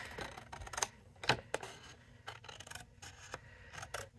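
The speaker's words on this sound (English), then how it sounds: "Snip off that little edge right there." Scissors snip the edge of a craft card in a few sharp, separate clicks scattered between faint rustling. The sound is close and quiet, with no voices.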